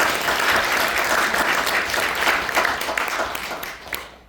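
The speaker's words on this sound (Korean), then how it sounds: "감독님에게 우리 박수를 한번 줍시다" Applause from an audience at a Korean book launch event, a dense sustained wash of many hands clapping that fades slightly toward the end.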